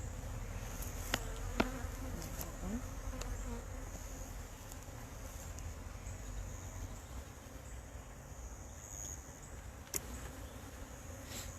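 Steady, soft honey bee buzzing fills the background throughout, with a few faint clicks and taps nearby; no talking.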